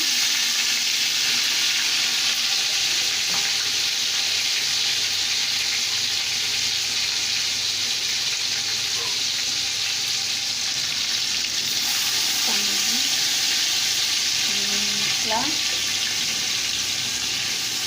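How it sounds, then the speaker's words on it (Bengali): Sliced onions fry with biryani masala in hot oil, giving a steady, close sizzle that runs throughout, with occasional soft scrapes and clinks of stirring. "তেল পেঁয়াজটা ভাজা ভাজা, পেঁয়াজটা ভাজা ভাজা হওয়ার পর মিশিয়ে রাখা বিরিয়ানির মশলা,"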